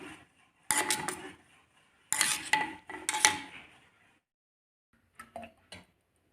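Beaten eggs for omelette whisked in a bowl with a utensil, giving bursts of quick clinking and scraping against the bowl in three short bouts, then a few lighter taps, close and with no talk.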